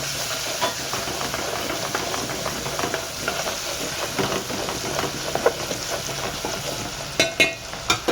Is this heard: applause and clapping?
no